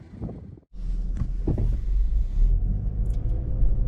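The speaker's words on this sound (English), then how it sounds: "we're heading out of the dealership in this 2023 Impreza Premium" A 2023 Subaru Impreza Premium hatchback pulling out of a dealership on a cold day, with a steady low engine and road rumble, close and continuous after a brief opening of handling noise.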